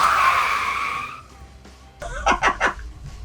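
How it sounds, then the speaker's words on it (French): A licence-free microcar brakes hard during a crash test, its tyres squealing loudly for about a second before fading, followed by a few short squeaks and scrapes as it comes to a stop. "Eh, ça freine quand même."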